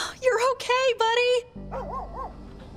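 A dog in Oxenfree II gives a few short, bright barks and yips close up, followed by softer whimpering whines.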